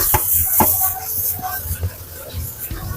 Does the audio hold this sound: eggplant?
yes